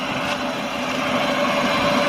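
A Chevrolet Aveo engine is held at a raised speed of about 2,000 to 2,500 rpm while its air-conditioning refrigerant is topped up, giving a steady, close, unbroken hum with no talk.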